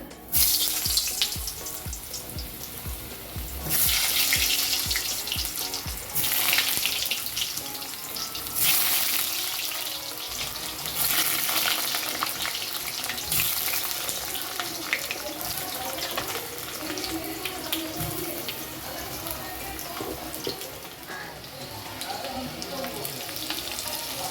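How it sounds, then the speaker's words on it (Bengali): Potato pieces fry in hot oil, a dense, loud sizzle that hisses continuously and close up, with occasional stirring scrapes and bursts of louder crackle. "তেল গরম হয়ে গেছে। এবার আমি আলুগুলো ভেজে নেব।"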